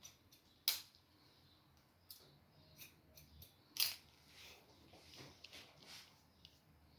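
Quiet snips of scissors cutting hair during a men's haircut, a few distinct crisp clicks spread irregularly with faint mechanical creaks between, soft and close with no speech.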